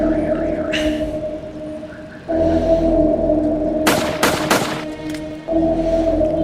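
Gunfire in a parody advertisement: three sharp, loud shots in quick succession burst over a steady droning hum, with brief talk before them.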